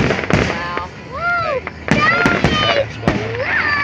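Fourth of July fireworks burst over a marina with repeated sharp pops and crackles, some whistling rising and falling tones, while people talk nearby throughout.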